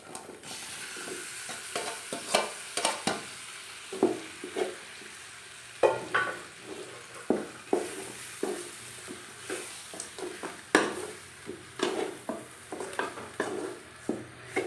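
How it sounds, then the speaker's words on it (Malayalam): Fried chicken pieces are stirred in a pan of masala, with repeated scraping strokes of a ladle and a steady low sizzle, heard up close without talk. "ഇതിലേക്ക് നമുക്ക് വറുത്ത് വെച്ചേക്കുന്ന ചിക്കനും കൂടി ഇടാവുന്ന"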